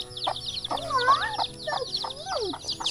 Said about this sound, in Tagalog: Daming sisiw.